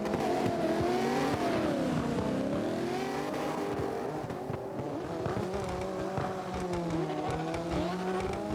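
Lexus LFA race car drifting in the CarX video game, its engine droning steadily with wavering pitch and tire squeal throughout, loud and continuous with no voices.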